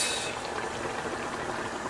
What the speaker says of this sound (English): So we've got the tomatoes boiling in this pot.